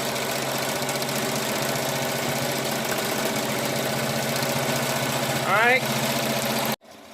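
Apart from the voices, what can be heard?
Melco EMT16X embroidery machine stitching at 900 stitches per minute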